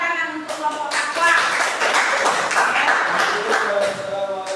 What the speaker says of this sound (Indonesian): Tepuk tangan untuk kelompok takwa.